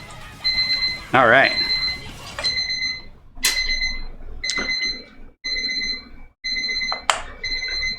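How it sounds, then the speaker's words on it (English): A kitchen timer alarm repeatedly sounds loud, bright electronic beeping bursts in rhythmic pulses, with a person talking over it and clattering kitchen noises mixed in. "That timer is going off."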